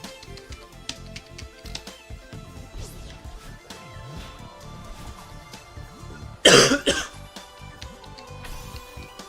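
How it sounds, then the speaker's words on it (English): A sick person clears their throat and coughs, one loud close burst standing out above quiet game background sounds, with no talk. "I'm just trying to clear my throat"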